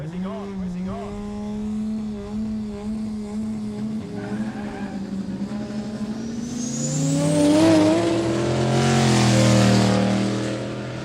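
A Holden Commodore races at a quick street event on a country course, its engine revving hard and climbing in pitch with tyre noise as it passes, while commentators talk over it.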